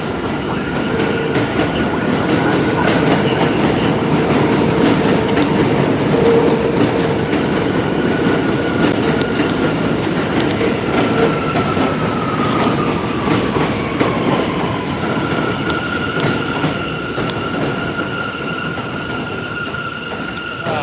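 A train rumbles past steadily and loudly in Bushwick, wheels clattering on the rails with faint squeals drifting in and out, no voices.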